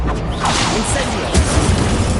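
An Incendio fire spell cast in the Hogwarts Legacy video game gives a broad, roaring whoosh with a low rumbling burst near the end, lasting about two seconds.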